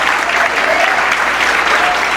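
Sustained applause from a church congregation during a service, a dense even wash of clapping at steady loudness for the whole stretch.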